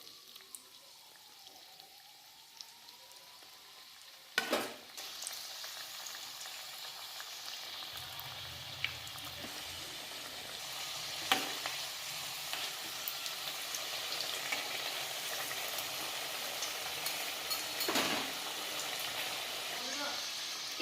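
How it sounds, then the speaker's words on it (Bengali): Spinach rolls deep-fry in hot white oil in a kadai, a steady sizzle that builds once they go in after a few seconds, with occasional sharp crackles and spatters throughout. "এবার এগুলো আমি তেলে ভেজে নেব।"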